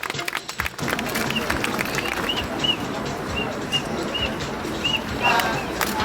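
Applause from a crowd at a hairdressers' protest rally, a sustained rough roar of clapping that stays fairly loud, with shouts and whistles poking through toward the end.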